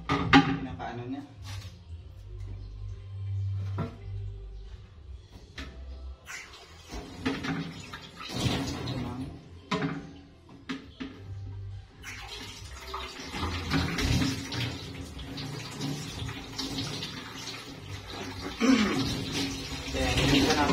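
Tap water runs while a Waters Bio Mineral Pot is cleaned, a faint, uneven splashing and trickling interrupted by handling clunks. A person talks over much of it.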